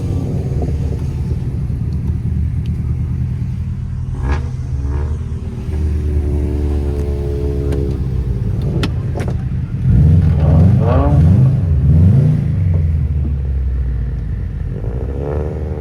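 Several Subaru cars rumble and rev as a group drives off from a car meet, engine tones rising and falling with louder revving bursts toward the middle, close and continuous.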